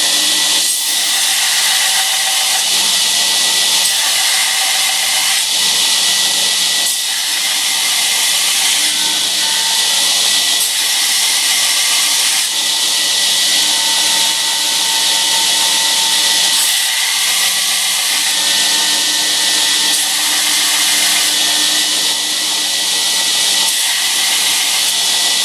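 A plunge router with a small added handle cuts a bevel into wood in a shop, giving a steady, loud high-pitched whine with a coarse rasp that continues unbroken, with small shifts in pitch as the cut goes on.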